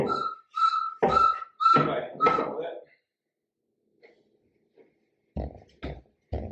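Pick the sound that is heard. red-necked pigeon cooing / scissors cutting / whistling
whistling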